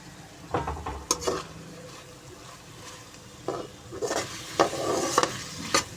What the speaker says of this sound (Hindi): अब इसको अच्छे तरीके से हम मिक्स कर लेंगे